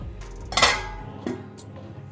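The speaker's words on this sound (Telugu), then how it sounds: "ఇప్పుడు మూత పెట్టి ఉడికించుకుందాం." A metal lid is set onto a cooking pot of paneer masala curry in a kitchen: a sharp close clatter, followed by two lighter clinks as it settles.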